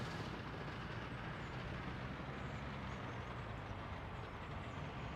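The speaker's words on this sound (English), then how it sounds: "was that the sound coming from the train then?" A train in the video game Workers & Resources: Soviet Republic runs with a steady, dense rumble and rolling clatter that stays loud and even throughout, with no talk over it.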